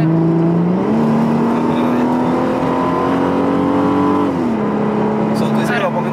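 A fifth-generation Ford Mustang V6 pulls hard on a road in Cupey, Puerto Rico, its engine note climbing steadily, dipping at a gear change and rising again, heard from inside the car with people talking over it.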